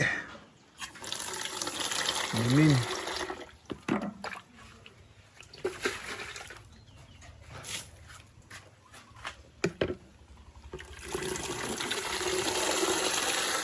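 Water pours and splashes steadily, fading out midway and then resuming, with a brief voice and a short animal sound near the start.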